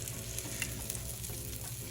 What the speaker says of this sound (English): Got a little sizzle.